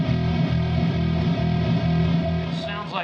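An electric guitar plays through a Fender Tone Master Pro patch, giving a sustained, dense, slightly driven tone that rings continuously at close range.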